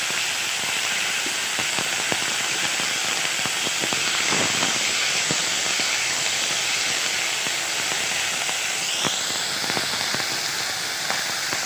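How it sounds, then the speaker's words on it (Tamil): About 150 grams of chopped eggplant sautéing in a hot pan for brinjal chutney gives a loud, steady hiss with scattered light crackles and pops. It runs continuously with no talking. "கத்திரிக்காய் நல்லா வதங்கட்டும்"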